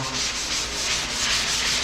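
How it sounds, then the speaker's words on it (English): Steady, close rasping of a sanding block rubbed by hand across plaster in continuous back-and-forth strokes. "I'm going to start block sanding by hand right now."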